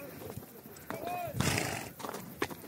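Horses at an ulak (buzkashi) game, with a high whinny, hoof thuds and scuffling up close, while people talk and shout over the action.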